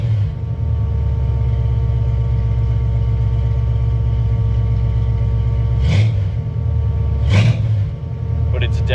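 A 351 V8 swapped into a carbureted Foxbody Mustang idles with a loud, steady, lumpy rumble close by, broken by two quick throttle blips around the middle and end that rev and fall straight back to idle.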